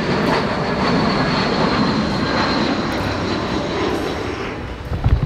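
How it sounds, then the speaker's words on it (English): A steady, loud roar of a landing jet airplane's engine in Santorini fills the whole stretch, a broad rumbling wash with no pauses. "you have the luxury of seeing airplanes land every 5 minutes."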